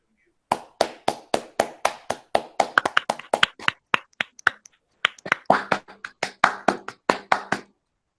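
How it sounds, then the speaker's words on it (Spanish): A small conference audience claps to welcome a speaker giving a talk on transport problems, with sparse, distinct hand claps in an uneven rhythm that pause briefly midway and then resume, close and clear. "les la bienvenida al compañero Alfonso Rivas con un fuerte aplauso."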